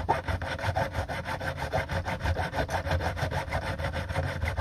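Steady back-and-forth strokes of a hand file cutting band grooves into a catapult frame, close and rhythmic at about three rasping passes per second, with no talk.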